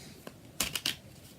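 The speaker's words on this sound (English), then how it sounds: "I'm going to pull 3 more cards for you guys" Tarot cards are shuffled close by during a love reading: one faint tap, then three quick crisp riffling bursts in succession, with no talking.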